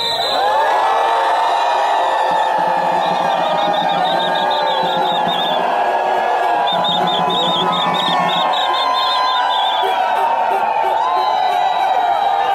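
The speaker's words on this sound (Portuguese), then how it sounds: "Dando mais uma salva de vaia, porque o nosso prefeito merece." A protest crowd in Ariquemes boos the mayor with loud, sustained jeers, whistles and shouts that fill the whole stretch without pause.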